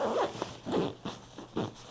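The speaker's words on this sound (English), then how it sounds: "See how it zip up?" A zipper on a travel packing bag is pulled closed in four short rasping strokes, each a quick scratchy burst with brief pauses between, close and fairly clear with no voices.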